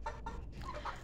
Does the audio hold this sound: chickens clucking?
yes